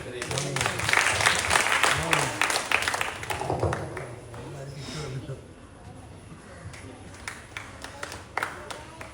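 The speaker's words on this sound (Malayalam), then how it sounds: "വളരെ ഒരു നല്ല കയ്യടി കൊടുത്തുകൊണ്ട്" Audience applause, a dense wash of clapping that swells early and then thins toward the end, with a voice speaking over it.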